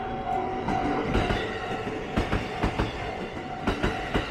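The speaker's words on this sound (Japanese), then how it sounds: "新型車両323系が上昇橋踏切を通過していきました" A JR 323 series commuter train rolls past nearby through a level crossing in Osaka, with rhythmic clickety-clack from its wheels over the rails, a steady rumble throughout.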